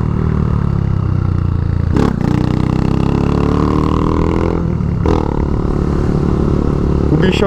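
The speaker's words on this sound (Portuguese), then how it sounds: "Escapamento barulhento da porra" A Honda Fan 160 motorcycle with a 190cc 4mm engine kit and loud exhaust roars up close, its pitch rising and falling as the throttle is revved, with brief sharp pops between revs.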